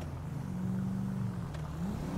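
Mariachi-themed car in GTA Online, an engine idling low with a smooth rise and fall in pitch as it revs gently, steady and moderately quiet.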